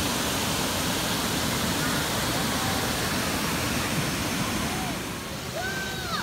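Steady broadband rush of a natural waterfall pouring into a swimming spot outdoors in Bavaria, a dense continuous roar with no pauses, heard up close and filling the whole clip.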